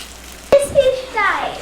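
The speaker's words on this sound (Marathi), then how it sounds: "आता फोडणी पण देणार आहे" A hot tempering (phodni) poured into mixed dal hits with a sudden loud burst, then settles into a short, bright sizzle that fades over about a second.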